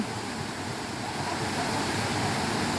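A waterfall at the Huai Sathot reservoir gives a steady, dense rush of falling water that fills the whole moment without a break.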